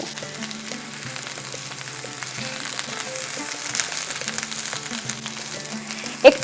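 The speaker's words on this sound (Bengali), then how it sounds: "এই সময় কুমড়োটাকে বেশ ভালো করে ভেজে নেব, যাতে কুমড়োর কাঁচা গন্ধটা একেবারেই না থাকে" Pumpkin frying in oil for a Bengali fish curry gives a steady, moderate sizzle throughout, with occasional spatula scrapes and a sharp clatter right at the end.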